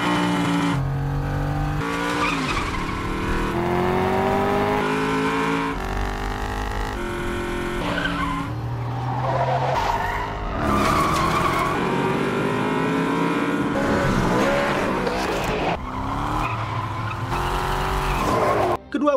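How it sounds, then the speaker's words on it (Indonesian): Cars speed and skid during a film car chase, engines roaring and whining up and down in pitch with repeated tire squeals, loud and continuous throughout. "Frank mencegat Madani hingga aksi kejar-kejaran pun terjadi."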